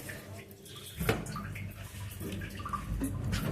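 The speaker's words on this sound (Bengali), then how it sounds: "লঙ্কাটা একটু ধুয়ে দিয়ে" Tap water runs steadily over a chili pepper being rinsed in a kitchen, a continuous close splashing gush with small drips.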